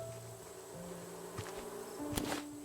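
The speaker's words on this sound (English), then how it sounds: "There's some bees." Bees drone in the survival video game Raft, a soft, steady buzzing of insects with tonal game sounds and a brief swell near the end, faint and without talk.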